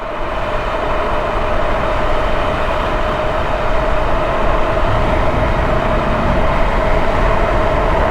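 A Jansno X50 electric bike accelerates at full throttle with a loud, sustained motor whine and a steady hum. Rushing wind and road rumble run underneath, constant and close for several seconds.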